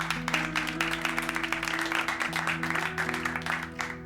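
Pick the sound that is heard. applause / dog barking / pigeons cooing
applause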